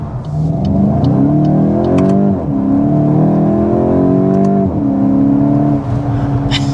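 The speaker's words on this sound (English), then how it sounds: "But the exhaust sound certainly is good." A 2025 Volkswagen Golf GTI engine revs hard and loud, the exhaust note climbing in pitch, dropping briefly, then climbing again in repeated pulls with no talking.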